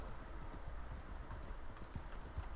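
Horse hooves clip-clop at a steady run in Red Dead Online, faint and low against a constant background rumble.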